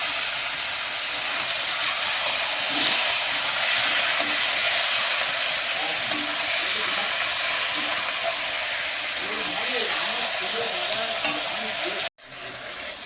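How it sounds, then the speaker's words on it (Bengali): Meat sizzles and fries steadily with spices in a pan, a loud continuous hiss with stirring scrapes throughout, briefly cut near the end. "মাংসটা কষানো চলছে"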